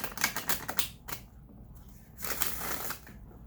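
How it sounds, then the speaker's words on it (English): Tarot cards are flipped and handled in quick papery flicks, a cluster of close snaps followed by a pause and another short burst, with no voice. "So I may flip 3 cards."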